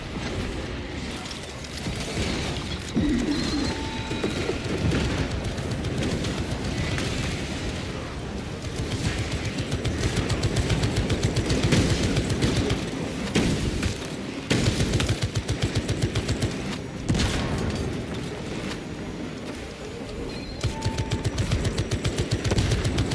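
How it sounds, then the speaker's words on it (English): A servo gun in the video game Warhammer 40,000: Space Marine 2 fires in long, rapid automatic bursts amid explosions and battle noise, loud and close, with brief pauses between volleys and a voice speaking at times. "Yes, my servo gun is putting in work."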